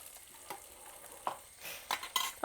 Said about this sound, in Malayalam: സവോളയും നന്നായിട്ടൊക്കെ ഒന്ന് വഴണ്ടി വന്നു.